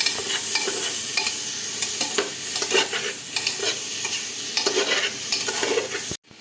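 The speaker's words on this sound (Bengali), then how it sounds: "এই যে পিস করে রেখেছি চিকেনের টুকরোগুলো ওগুলোকে দিয়ে দেবো আমরা দিয়ে ভালো করে নাড়িয়ে দেবো" Chicken pieces tossed into a frying pan for a stew and stirred well, a bright sizzle broken by repeated scraping spatula strokes, close and fairly loud, ending abruptly.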